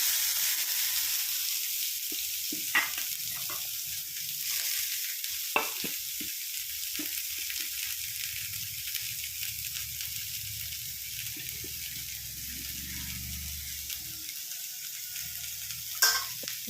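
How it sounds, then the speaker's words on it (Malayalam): A seasoned mixture for a thoran drops into hot oil and fries with a steady, close sizzle, broken by a few sharp crackles and soft stirring scrapes, with no talking over it. "എന്നിട്ട് നമുക്കത് എണ്ണയിലേക്ക് ഇട്ട് കൊടുക്കാം."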